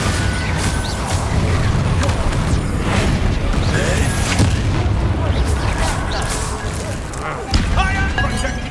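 A Bombarda explosion spell in the Hogwarts Legacy video game produces heavy booming blasts and crackling debris. It forms a dense, loud, continuous barrage of game combat effects, with a sharp impact near the end and voices underneath.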